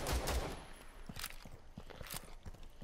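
Rapid video-game gunfire rattles off in a quick burst of sharp cracks, fairly loud and close, with short uneven gaps between shots.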